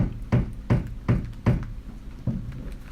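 Five heavy thuds from roof repair work outside bang at a steady pace, each a dull knock with a short ring, hammering-like and a little distant, with no voices.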